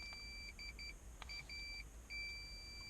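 Short electronic beeps from a multimeter continuity test on a cut, shorted airbag wiring harness in a Nissan Altima, sounding in several brief bursts and a longer tone over low background hum.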